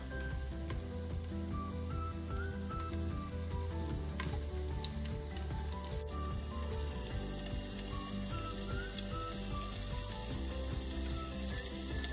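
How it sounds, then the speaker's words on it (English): Ground beef meatballs fry in a greasy pan for meatball soup, giving a continuous close sizzle and spatter that holds steady from start to finish, with a few soft stirring sounds and no voices. "we're just gonna cook some more meatballs up"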